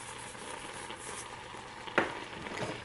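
Apples with cinnamon and a little salt being stirred in a hot pan, a steady soft sizzle with scraping movement and one sharper utensil knock midway, close and moderately quiet, without speech.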